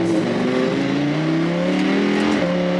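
A Lamborghini Huracan in Corsa sport mode accelerates hard, its loud engine note climbing steadily in pitch through the revs with no talking.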